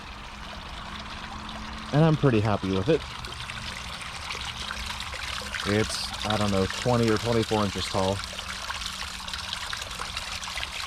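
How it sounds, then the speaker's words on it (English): A small homemade garden waterfall trickles steadily in the background, a soft continuous wash of running water under someone talking in the foreground. "I think this is the 4th version of the waterfall now,"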